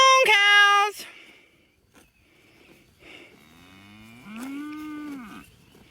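Cows on a farm moo loudly and close at the start, followed by quieter lows and a second long, drawn-out moo toward the end, with pauses between calls.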